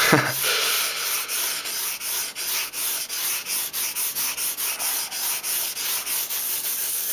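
A badly damaged kitchen knife is stroked steadily back and forth across sandpaper during sharpening, producing close, continuous rasping rubs in an even rhythm of roughly three strokes a second.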